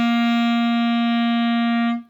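A clarinet holds a single steady C for about two seconds, clear and close, before fading out.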